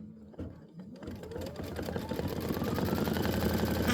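An Aveneer embroidery machine stitches out a Boo Manor tile, a steady, rapid mechanical whirr that builds and grows louder after a brief quiet start, running continuously and close by.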